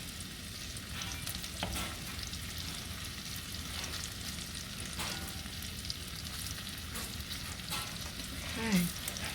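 Shrimp tipped into a pot of seafood soup give a steady, quiet sizzle and bubbling hiss across the whole stretch, with faint clinks of a utensil and no talk.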